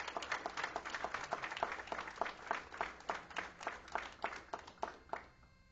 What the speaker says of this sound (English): Let's take a moment to give our students a round of applause for their heartfelt decorations in the boardroom